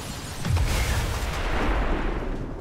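A car explodes in the strategy video game XCOM, a loud dense boom with sustained rumbling roar that fills the whole moment and slowly trails off.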